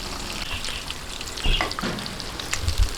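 Steady sizzling and crackling of pork intestines deep frying in hot oil until crispy, with a few louder pops and the occasional clink of a utensil.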